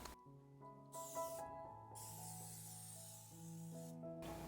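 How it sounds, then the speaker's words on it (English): Soft hissing sprays of nonstick cooking spray into a baking pan come in a few short bursts, faint and close, over a low tonal hum in the background. "spray it with Pam spray or any other nonstick cooking spray"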